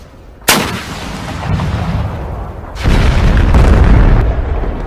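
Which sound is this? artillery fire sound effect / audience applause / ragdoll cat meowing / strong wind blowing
artillery fire sound effect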